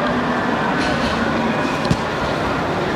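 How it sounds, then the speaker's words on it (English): A tram runs along a street in Istanbul on a lightly rainy day, giving a steady low rumble with faint tonal whine and a brief clank partway through. "You can see there's a tram that runs up and down it."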